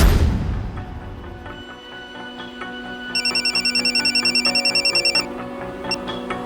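A phone rings with a bright warbling electronic tone, a steady pulsed burst lasting about two seconds over a low rumbling dramatic music bed, with no talking.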